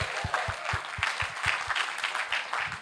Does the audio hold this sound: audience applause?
yes